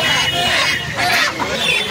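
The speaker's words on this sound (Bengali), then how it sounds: "এইগুলো সব মোরগ ছিল আর এইগুলো মুরগি আছে" Busy chicken market din with hens and roosters clucking and calling amid crowd chatter; a rooster may crow faintly in the mix.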